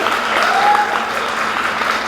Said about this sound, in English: Can y'all clap for my sis one more time?